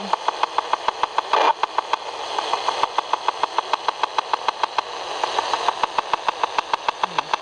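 Linky smart meter powerline carrier harmonics picked up near a transformer: a steady electronic hum with a fast regular ticking pulse running throughout, continuous and fairly loud with no voices.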